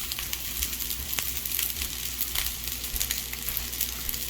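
Fried rice with bacon crisping in a hot pan, a steady dense sizzle and crackle that runs unbroken throughout, close and fairly loud, with no talk over it.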